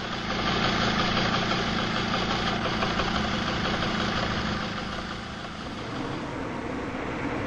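A 1979-era moped engine idles steadily and close, a continuous low chugging drone with constant loudness and only a slight dip partway through.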